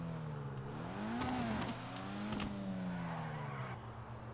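A Karin Futo in GTA 5 drives with a steady engine drone, revs rising and falling, and brief tire squeals as it tries to drift, loud and close throughout with no talking.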